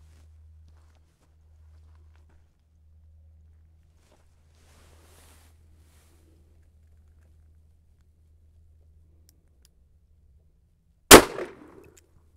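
A single sharp gunshot from a Kimber K6s 4-inch revolver, loud and close, breaking a long quiet stretch with faint low hum, followed by a brief echo tail.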